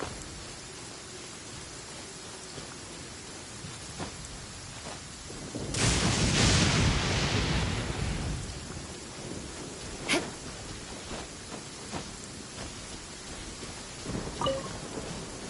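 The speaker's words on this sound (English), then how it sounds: "The thunder drowns out all other sounds, hampering my perception of the surrounding environment" Thunder and rain in Genshin Impact: a steady hiss of rainfall with a big rolling thunderclap that swells and fades, then sharper distant cracks and rumbles over the continuing rain.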